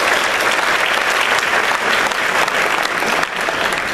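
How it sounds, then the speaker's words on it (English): Loud, dense applause from a packed audience at a town hall meeting on homelessness, a continuous wash of many hands clapping close by, with no speech. "let's give the college a round of applause for that"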